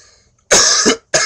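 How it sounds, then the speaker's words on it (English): A person with a bad week-long cough lets out two harsh, close coughs, the first longer and rasping, the second short, after a near-silent moment. "I had a bad cough all this week."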